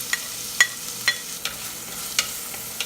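Crushed ginger and garlic sizzle and fry in a pan for an egg curry in coconut milk, a steady close hiss broken by several sharp stirring clicks and pops, with no voices.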